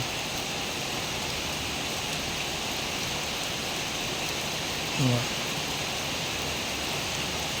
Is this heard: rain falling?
yes